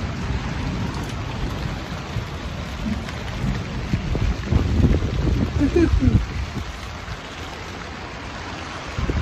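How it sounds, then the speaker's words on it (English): Rain patters steadily on a boat while thunder rumbles low and rolls in around the middle, with a voice talking over the storm. "Got a bit of thunder and lightning going on. Some thunder right there."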